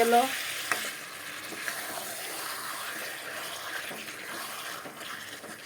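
Chicken and potatoes fry in oil in a pan, giving a continuous close sizzle with light stirring, louder at the very start and then settling to an even crackle without speech.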